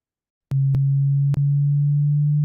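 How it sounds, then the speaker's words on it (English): Steady pure test tone near 200 hertz, a single unbroken sine pitch that starts abruptly and holds at constant loudness, with a few brief clicks at its onset and partway through. "even though the frequency is about 200 hertz, the pitch is really quite high."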